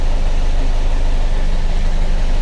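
A Volkswagen Beetle engine idles cold close by with a steady, low, rhythmic rumble and a constant throb, with no change in pace.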